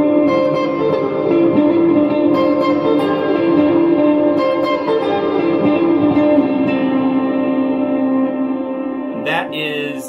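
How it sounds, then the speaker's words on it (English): Sustained guitar notes drenched in heavy reverb, tones washing and ringing into one another, ending with a short scrape. "That is an absolute crap ton of reverb. That's just dripping in reverb."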